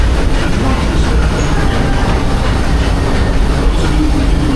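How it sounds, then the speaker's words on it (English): Disneyland Railroad train rolling into New Orleans Square station, a steady loud rumble of wheels and rail clatter filling the whole stretch with no voices over it. "please remain seated until the train comes to a complete stop"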